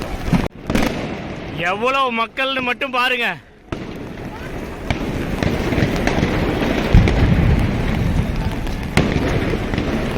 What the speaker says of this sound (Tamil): எவனை இங்கேயே வெடிக்க ஆரம்பிச்சிட்டான்.